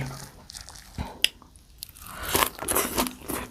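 Crunchy bites and chewing on jackfruit curry with fresh raw vegetables and shrimp-paste chili dip, close to the mic, with several sharp crunches between quieter mouth sounds and no talking.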